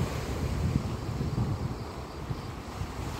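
Sea waves and gusting wind during a small storm on a wild beach at Khosta, a continuous loud rushing roar with low surf rumble and microphone wind buffeting, no voices.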